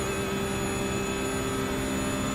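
A Porsche race car engine during a three-hour endurance race at Spa holds a steady, droning whine with a faint whistling tone as it shifts into sixth gear, a constant roar heard from inside the car.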